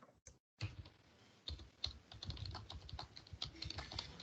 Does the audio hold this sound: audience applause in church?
no